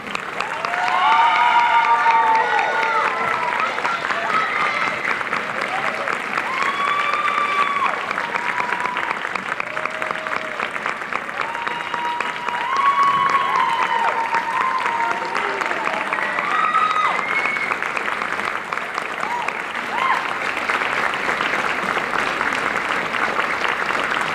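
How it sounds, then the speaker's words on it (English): A school band concert audience gives a long, loud round of applause for graduating seniors, sustained dense clapping mixed with cheers, whoops and crowd voices throughout. "Let's give them a big round of applause."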